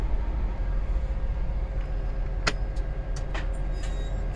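A Freightliner Cascadia truck with its ignition switched on gives a steady low diesel rumble, with a few sharp clicks and brief hisses near the end.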